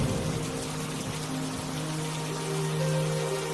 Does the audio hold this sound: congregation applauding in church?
no